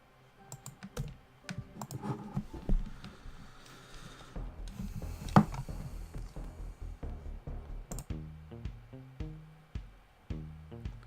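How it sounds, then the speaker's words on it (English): Computer keyboard typing for chat, a run of quick, irregular key clicks and taps with short pauses, close and moderately quiet, with no voice. "I'm just gonna type in chat."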